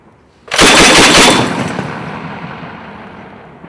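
An Mk 19 grenade launcher fires a short, loud burst of heavy thumping rounds up close, followed by a long rolling echo that fades out over a few seconds.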